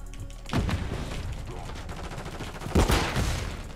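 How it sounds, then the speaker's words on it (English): Dense gunfire in a Call of Duty: Modern Warfare 3 multiplayer match, a loud steady fusillade of overlapping shots with a heavier burst near the end. "Dude, I don't even know who's shooting me."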